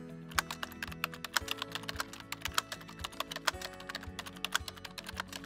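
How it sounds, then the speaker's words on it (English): Rapid typing on a computer keyboard as a search term is entered, a steady run of close, crisp key clicks with slight pauses, alone and over faint background music. "In the search menu, please write down SuperTrended Moving Averages."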